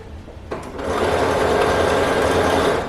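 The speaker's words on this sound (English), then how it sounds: "I'm just going to go ahead and hem this with my pretty lace here." Sewing machine hemming caftan fabric with lace trim: a brief click and start, then a fast, steady, close whirring run lasting a couple of seconds before easing off.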